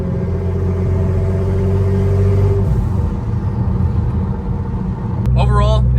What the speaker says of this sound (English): Overall, it sounds really bad as far as the exhaust note goes, but that turbo whistle does sound pretty damn good.